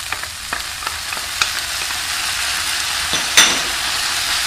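Chow mein noodles stir-frying in hot oil with sauce in a pan, a steady loud sizzle with scattered scraping and stirring clatters and a sharper hiss near the end, no talking.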